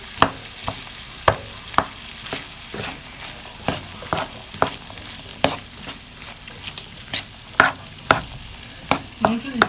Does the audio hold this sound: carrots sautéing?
yes